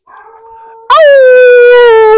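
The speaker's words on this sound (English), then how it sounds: "There's a dog barking" A dog's drawn-out howling vocalization, a faint whine first and then a loud, sustained tonal howl close by, alone with no talk.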